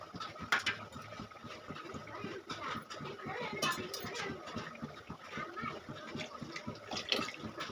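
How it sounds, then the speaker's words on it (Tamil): Water boiling in a cooking pot on a home stove, with soft continuous bubbling and sputtering at low level, some faint background sounds alongside. "இது பாருங்கள் ஃப்ரெண்ட்ஸ், தண்ணி நல்லா கொதிக்க ஆரம்பிச்சிருச்சு."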